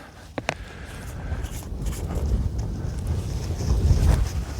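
Wind gusts across an open disc golf course at Meadowbrook Orchards and buffets the microphone with a low, rumbling roar that builds steadily. A couple of brief sharp clicks come near the start.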